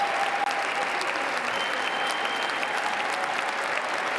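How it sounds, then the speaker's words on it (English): Steady applause from a large crowd at a presidential inauguration, a dense continuous clapping heard from a distance, with faint voices mixed in. "Why are you clapping for Corey"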